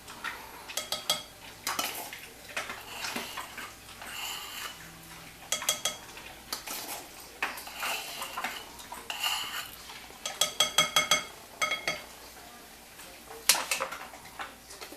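A utensil stirs baking powder into eggless muffin batter in a bowl, giving repeated clinking and scraping strokes in bursts with short pauses, close and fairly clear.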